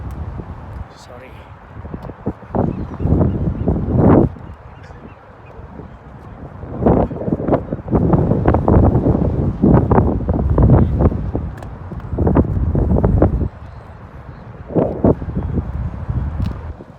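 Wind buffets the microphone at the seaside near the Golden Gate, a low rumbling gust noise that swells and drops under a person talking almost throughout.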